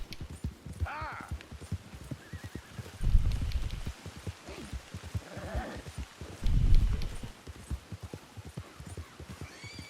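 Hooves clip-clop at a gallop on a horse in Red Dead Redemption 2, with a steady rhythmic beat and two heavier thumps. A man calls out briefly over the hoofbeats.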